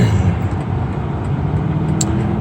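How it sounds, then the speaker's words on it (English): A 2020 BMW X6 M's engine grumbles steadily while driving, a constant low rumble with road noise filling the whole stretch, close and fairly loud. "It's got a nice grumble to it when she gets up and goes."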